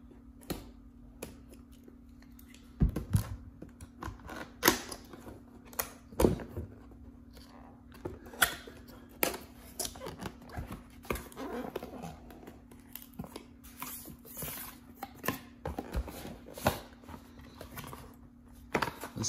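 A blade cuts a seal on a Gateway 15.6-inch laptop box, heard as scattered sharp clicks, taps and scrapes of cardboard and plastic close by, with a steady faint hum underneath.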